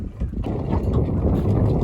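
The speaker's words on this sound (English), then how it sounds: "Yes, wind's picked up a bit" Wind blowing over the open sea by a beach fishing boat off east Norfolk during mackerel fishing, a steady low rushing roar with buffeting gusts that fills the whole stretch and continues without pause.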